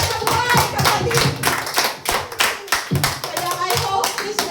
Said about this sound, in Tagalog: Palakpak para sa Diyos ng buhay, kapatid!